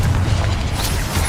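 A Confringo fire spell blast in Hogwarts Legacy, a loud, sustained booming burst with heavy low rumble that stays dense and steady through the whole moment, without talk.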